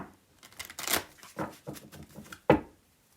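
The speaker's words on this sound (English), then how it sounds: "let's give it another shuffle" Oracle cards being shuffled by hand, a series of quick papery riffles and soft flicks close by, ending in one sharper snap.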